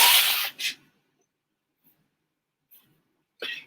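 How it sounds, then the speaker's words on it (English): Nose blown in a close, strong burst at the start, followed by a shorter second puff and faint sniffs, ending with another brief blast of air. "gotta blow my nose a little bit"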